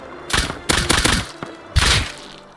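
Gunfire in the survival video game Rust, with a quick burst of close shots, a lone crack, then another short volley, loud and sharp with no talk over it.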